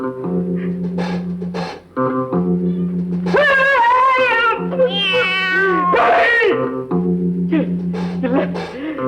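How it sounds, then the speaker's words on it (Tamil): A house cat lets out several drawn-out, wavering meows, loud and close, in a cluster at the middle, over a sustained tonal musical backing. "இல்ல இல்ல, பூனை, நம்ம வீட்டு பூனை"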